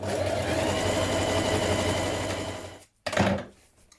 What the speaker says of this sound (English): So a line of ease stitching around the top of each sleeve.